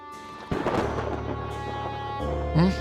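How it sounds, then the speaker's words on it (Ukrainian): A lightning strike in the video game Stars In The Trash sets off a sudden crack of thunder that rolls into a long, fading rumble over a soft, sustained musical backdrop. "Коли б'є блискавка, треба ховатись."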